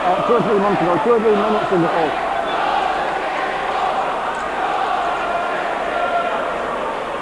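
A football crowd at Bramall Lane during a 1988 Sheffield United versus Bristol Rovers match makes a steady, dense roar throughout, with a voice rising out of it briefly at the start.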